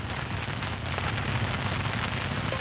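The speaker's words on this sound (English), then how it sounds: "Can hear the rain coming down now" Steady rain falls outdoors on surfaces in a continuous even wash, with no voices.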